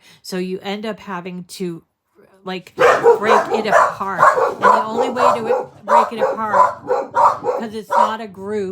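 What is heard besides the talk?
dog barking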